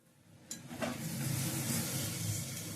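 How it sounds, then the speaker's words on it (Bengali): Rice is tipped into hot ghee with cashews, raisins, bay leaves and whole garam masala, starting a steady loud sizzle after a brief clatter, with stirring noise throughout. "যা চাল চলে গেল ঘিয়ে ভাজা"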